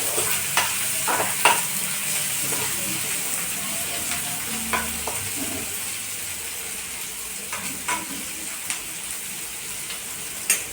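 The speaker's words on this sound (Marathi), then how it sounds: "कांद्याचा दोन मिनटं फ्राय करून घेतला" Chopped onion frying in a pan for rajma, a steady close sizzle with scattered scraping and stirring clicks of a spoon against the pan throughout, no voices.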